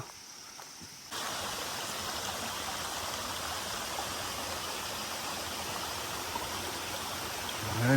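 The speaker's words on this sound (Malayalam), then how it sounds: "നല്ല വെള്ളച്ചാട്ടോ." A waterfall on the Agasthyarkoodam trek near Trivandrum roars in a constant, broad rush, starting suddenly after a quiet second and holding steady and loud to the end.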